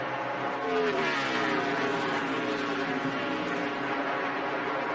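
NASCAR stock cars racing in 2002, Jeff Gordon's car chasing a Dodge on the backstretch, a steady loud engine roar with a slowly shifting pitch as the pack runs together.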